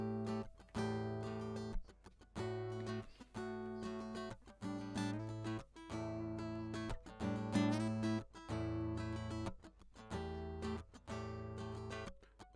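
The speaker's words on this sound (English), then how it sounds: "So this was a piece of guitar that Christy played while she was singing" Recorded guitar part played while the performer sang, heard alone as sustained strummed chords in a steady rhythm with short gaps between phrases, fairly quiet and dynamic.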